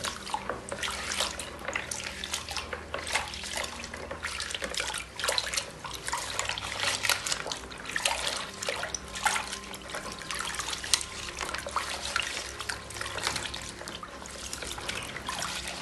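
Cold bath water sloshes and trickles steadily as a person moves in the tub, a continuous close splashing and dripping with no talking.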